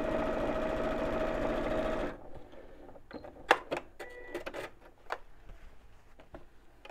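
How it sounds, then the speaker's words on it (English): A sewing machine stitches the top and bottom of a messenger bag, a loud, steady whirring run for about two seconds that stops abruptly, followed by scattered clicks and clacks of handling the fabric and machine. "I'm just sewing the top and the bottom because this is the same width as the bag"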